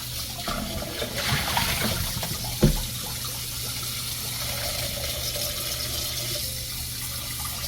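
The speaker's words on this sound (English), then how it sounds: "I'm gonna go ahead and wash my fruit" Tap water runs steadily as fruit, including a mango, is washed under it in a kitchen sink, a continuous hiss with a brief knock partway through.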